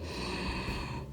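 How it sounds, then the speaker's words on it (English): A single deep breath drawn in a seated yoga forward fold with a strap or towel around the feet, a close, steady airy inhale lasting about a second with no talking. "Breathing in"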